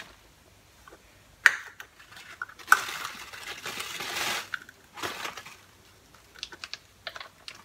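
A spoon tapping and scraping as it packs brown sugar into a half-cup measuring cup, with a couple of sharp clacks and a gritty crunching stretch, then scattered light taps, all up close.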